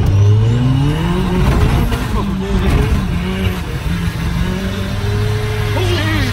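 A turbocharged 1995 Honda del Sol Si accelerates hard, its engine note climbing steadily through the revs, loud and close from inside the car, with a voice partly over it.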